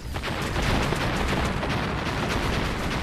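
Artillery fire in the VR shooter Dead Shot Heroes on Oculus Quest pounds continuously, a dense, loud barrage of overlapping booms and cracks with no pause.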